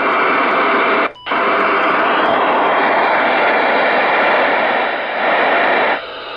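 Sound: Northstar NS100DS VHF marine radio squelch static

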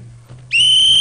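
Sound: police whistle blown

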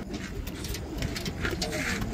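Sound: pigeons cooing, golden Rajasthani and Shahjahanpuri breeds

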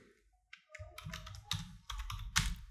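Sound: typing text on a computer keyboard

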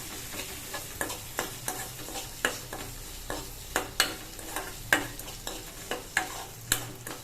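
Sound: stirring food frying in a pan

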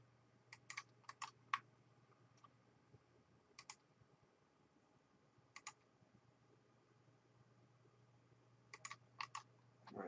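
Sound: computer keyboard typing, backspace key presses

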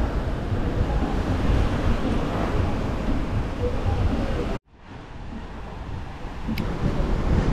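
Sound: strong sea breeze wind at beach

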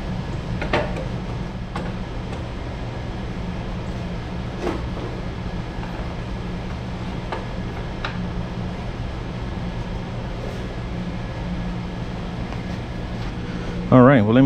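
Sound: mechanical fan blowing in a workshop

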